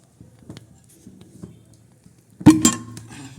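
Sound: wok (kadhai) being placed on the gas stove

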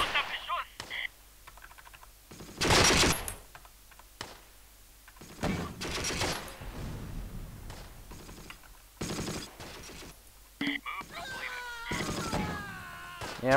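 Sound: gunfire in Close Combat video game battle

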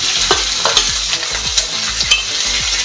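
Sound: onions frying and being stirred in a pan

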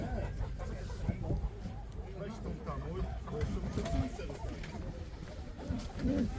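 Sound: homing pigeons cooing at a pigeon market

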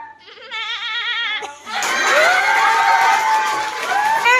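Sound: child imitating a goat

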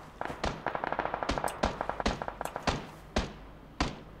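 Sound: gunfire in the video game PUBG

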